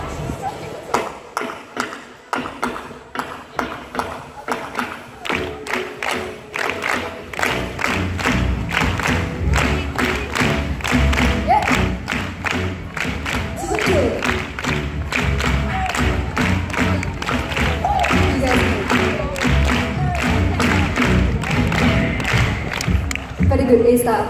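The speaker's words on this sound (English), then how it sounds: "Thank you very much for clapping along." Audience at a school performance at CHIJ Katong Convent claps along in a steady, repeated rhythmic pattern, loud and continuous for most of the stretch, with crowd noise and some voices mixed in.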